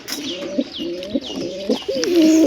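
Pigeons in a breeding loft coo in a run of four low, rolling phrases, each swelling and dipping, close and fairly loud, with faint chirps and rustling in the background.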